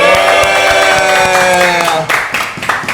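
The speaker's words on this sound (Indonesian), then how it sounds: "Tepuk tangan dulu." Hands clap in a group welcome for a guest at a food-tasting session, a quick run of sharp claps riding over a steady tonal drone with voices around.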